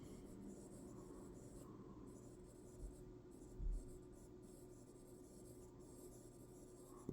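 A stylus writes on the glass screen of a Samsung Galaxy Tab S8 Ultra, giving a faint, continuous scratchy rubbing over a quiet room hum, with a couple of soft taps partway through.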